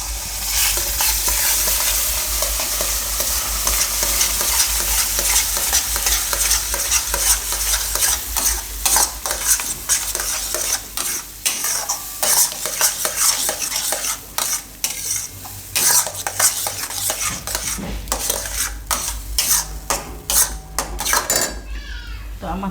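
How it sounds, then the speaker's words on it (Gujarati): Papaya pulp being stirred and cooked in a pan over a low gas flame, with repeated scraping and clinking of a spoon against the pan over a soft sizzle, continuous and close. "આમાં આપણે નાખી દઈશું આ પપૈયાનો પલ્પ"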